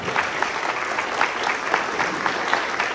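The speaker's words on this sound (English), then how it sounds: "give our newest Rotarians a big round of applause" Rotary club members at a yacht club meeting give a sustained, even round of applause to welcome newly inducted Rotarians, with many hands clapping steadily throughout.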